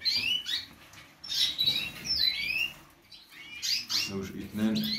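Gloster canaries in breeding cages give high, quick chirps and twittering bursts in clusters, fairly close, with someone speaking softly in the background near the end.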